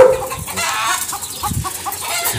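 Farm chickens in Riyadh, Saudi Arabia, clucking in a loose, irregular series of short calls over steady outdoor background noise at moderate distance.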